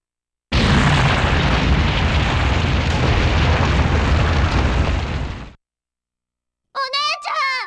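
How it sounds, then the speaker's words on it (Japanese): A sudden, loud explosion erupts beneath a running character's feet in a visual novel game. A roaring, full-range blast sustains for about five seconds, cuts to silence, then a voice cries out. "そしてこっちへ戻ろうと走り出した時、足元が爆発した。"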